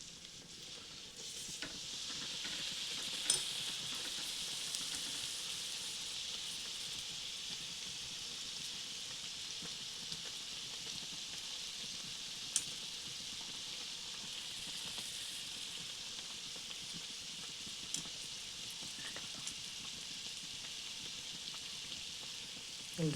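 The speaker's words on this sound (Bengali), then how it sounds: "তো দুদিকটি ভালো করে ভেজে নিচ্ছি।" Pea-filled kachori deep frying in a karahi of oil, a steady soft sizzling hiss held at an even level for the whole stretch, with a few faint clicks now and then and no voices.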